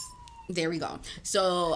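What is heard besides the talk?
siren passing outside in Northside Toronto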